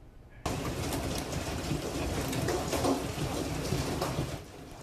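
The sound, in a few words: heavy rain and hail during severe thunderstorm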